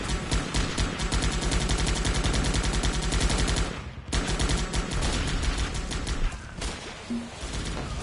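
Dense, rapid gunfire from the video game Guns Up!, a loud near-continuous automatic chatter with a brief pause at about four seconds, then bursts resuming and thinning toward the end.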